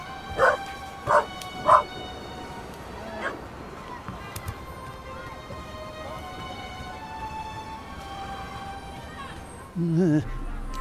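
A puppy in the video game The Raven yips and whimpers in three short bursts at the start. A voice then speaks over a steady game ambience, and there is a louder, low whimper near the end.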